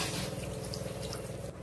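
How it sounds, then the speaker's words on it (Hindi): A glass of water pours into a pan of soybean chunk curry as a brief, steady, quiet splashing stream, heard alone. "अब हम इसमें पानी डालेंगे।"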